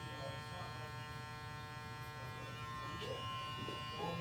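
A Wahl Magic Clip gold cordless clipper, blade fully open, buzzes steadily as it makes a pass cutting hair, with a constant close hum throughout and slight shifts as it moves against the hair.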